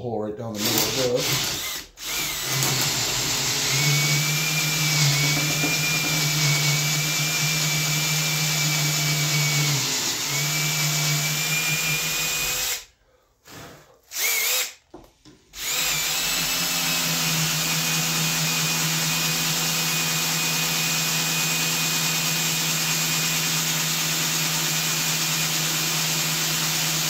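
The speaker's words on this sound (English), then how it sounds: "See if I can drill a hole right down the middle of this." A power drill bores down the middle of a chunk of white oak stock being shaped into an axe handle, a loud, steady close-up whine that briefly cuts out twice before resuming.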